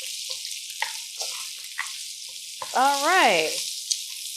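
Vegetables frying in a single pan for a vegan breakfast hash, a steady soft sizzle with scattered pops and stirring clicks, close by, with a brief spoken phrase partway through.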